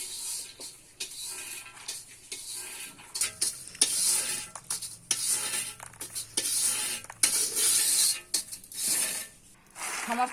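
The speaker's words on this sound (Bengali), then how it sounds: "সমস্ত বাদাম ভাজা হয়ে গেছে" Peanuts stirred and dry-roasted in a pan produce repeated rattling, scraping bursts as the spoon moves them around, uneven in rhythm and close, with short pauses between strokes and no speech.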